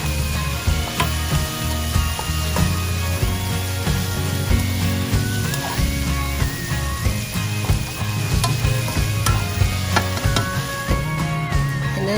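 Sliced carrots and fresh garden string beans cooking in a pan, a steady loud sizzle with light clinks of utensils running throughout without pause.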